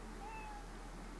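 An anime cat lets out a single drawn-out meow that rises and falls, clear but fairly quiet against a steady low background hum.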